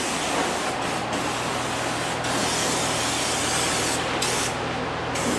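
Protective coating sprayed under an equipment trailer: a loud, continuous close-up hiss running almost unbroken for several seconds, with a few brief dips as the nozzle pauses.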